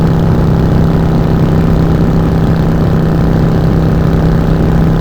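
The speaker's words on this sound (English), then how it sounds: "nice V-twin exhaust soundtrack" A 39-year-old Yamaha XV V-twin motorcycle rumbles steadily with a loud, continuous exhaust drone and a strong low hum, recorded while riding at dusk.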